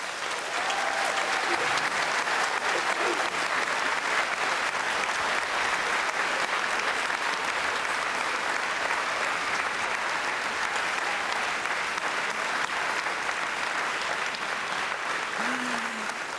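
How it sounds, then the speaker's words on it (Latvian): Sustained applause from a concert audience at a folk dance ensemble's 55th anniversary jubilee, a dense steady clapping that fills the hall from start to finish with no breaks. "vislielākā dāvana, es domāju, jums ir mūsu aplausi un ovācijas"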